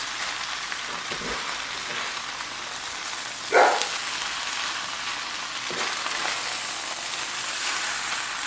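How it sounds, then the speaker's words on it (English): Rice frying in a pan until crispy gives a soft, even crackle that runs throughout, with one brief louder scrape partway through as it is flipped. "I'm just going to give it a little flip. You can see it's getting a little crispy."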